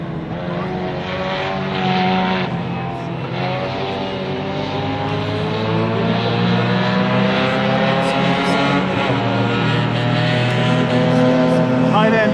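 Mini Se7en race cars pass at Silverstone, engines droning steadily for the whole stretch with rising and falling tones as the back group comes through, a commentator's voice running over the engine noise.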